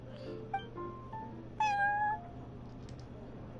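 A video game cat at the Cat's Tail meows a few times over a low steady background hum. A short chirp comes first, then a longer, clearer meow in the middle, and faint mews trail off after it.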